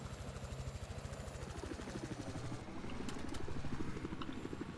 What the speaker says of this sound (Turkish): Helikopter çıktı base'den.